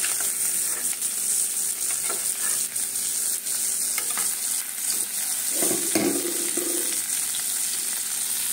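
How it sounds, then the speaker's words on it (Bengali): Prawns fry lightly in hot oil with a steady close sizzle, punctuated by the scrape and tap of a utensil turning them in the pan. "চিংড়ি মাছটাকে কিন্তু হালকাভাবে ভেজে নিতে হবে।"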